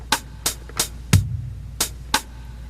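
Drum machine ticks in a lilting, shuffled swing jazz pattern with one low kick thump midway, clean and close with no voices.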